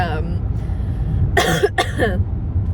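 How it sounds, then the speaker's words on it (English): Two harsh coughs burst out close by over a low rumbling background, with a voice heard briefly before them. "I'm sorry for the cough"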